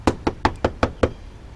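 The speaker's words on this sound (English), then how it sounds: "knock on the door." Six sharp knocks on a door land in an even, brisk rhythm, loud and close, then stop, leaving a quiet tail with no voices.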